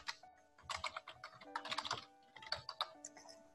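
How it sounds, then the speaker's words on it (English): Quick, light keystrokes on a computer keyboard entering an email address, close and quiet in uneven bursts with short pauses, no talk. "We're going to type our email address, and we're going to repeat it."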